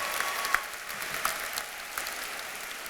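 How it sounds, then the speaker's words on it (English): Audience at a high school commencement ceremony applauds for a principal, a fairly soft, continuous patter of clapping heard from a distance with a few sharper claps standing out. "can we get one more round of applause for our wonderful principal"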